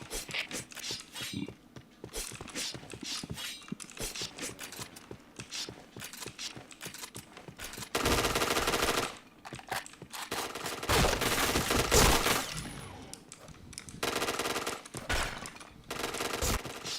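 Rapid video game gunfire sprays in dense bursts, with heavy continuous volleys around the middle and end, mixed with clicking mechanical sounds and game effects.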